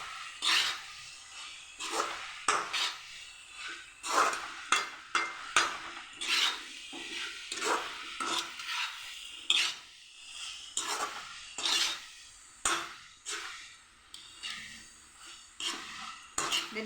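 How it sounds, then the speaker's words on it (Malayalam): A spoon scrapes and clatters against a pan while a spiced masala puttu mixture is stirred, with irregular repeated scraping strokes close by and no talking. "എല്ലാം കൂടി നന്നായി ഇളക്കി കൊടുക്കാം"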